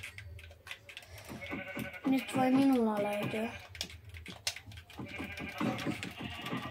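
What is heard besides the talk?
sheep bleating in Minecraft video game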